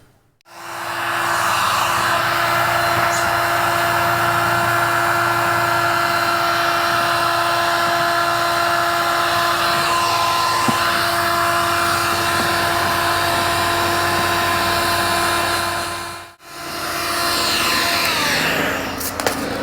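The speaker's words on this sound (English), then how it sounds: "I'll probably heat them up with the hot air gun and push them back into their place again." A hot air gun running continuously while heating plastic pieces, a loud, steady blowing whine close by that cuts out briefly near the end and then starts again.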